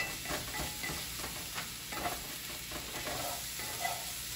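Tomato paste stirred in a hot pan for stuffed peppers: a constant low sizzle with soft scraping strokes of the spoon, close and fairly quiet.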